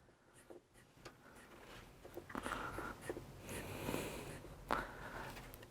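Chalk or marker scratches and taps against a board in a chemistry class, with short irregular strokes and clicks, fairly quiet, and no speech.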